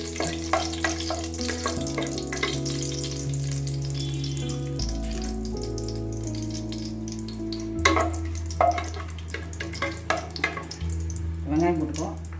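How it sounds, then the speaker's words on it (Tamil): Cinnamon, cloves, cardamom and star anise fry in hot oil for a chickpea biryani, giving a steady close sizzle with occasional stirring clatter while a voice speaks over it. "இந்த பட்டை, லவங்கம், ஏலக்காய், ஸ்டார் பூ எல்லாத்தையும் போட்டு நல்லா பொரிஞ்சதும் வெங்காயம்"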